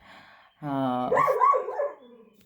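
A dog gives one drawn-out bark that slides into a whining yelp, fairly close, with quiet surroundings before and after.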